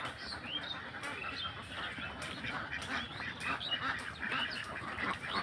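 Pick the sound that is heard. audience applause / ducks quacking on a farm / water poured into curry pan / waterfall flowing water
ducks quacking on a farm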